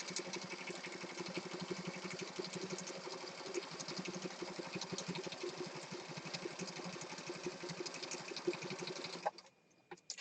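A sewing machine runs steadily for several seconds, a close, even mechanical whirr and rapid needle clatter, while it sews down the edge of a mixed media piece. It stops abruptly near the end.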